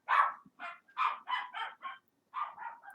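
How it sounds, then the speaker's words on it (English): Several dogs barking in bursts nearby, sharp repeated barks in two clusters separated by a short pause, with no talking over them. "Please ignore the dogs."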